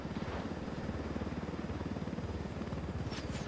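Helicopter in the video game Ghost Recon Wildlands, a rapid continuous rotor thump with a whooshing engine roar, steady and fairly close throughout.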